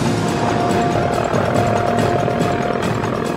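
A helicopter flying aerobatic figures such as rolls and loops gives a loud, continuous rotor and engine roar with a steady rhythmic thrum throughout, close and unbroken, with no voices.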